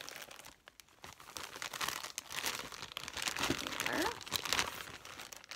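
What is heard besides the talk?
crinkling plastic packaging around a wig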